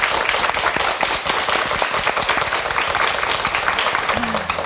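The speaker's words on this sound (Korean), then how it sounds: "앞으로도 이렇게 잘 사시라고 응원 박수 보내드릴게요." A TV studio audience on a family documentary show gives warm, dense applause for a couple, steady loud clapping from many people throughout, with a brief voice at the very end.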